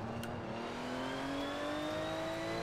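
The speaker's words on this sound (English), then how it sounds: "I'm just driving around in this cool Porsche" A Porsche on winter tires in Forza Horizon 4 accelerates steadily, its engine tone rising smoothly and continuously at moderate volume with no talking.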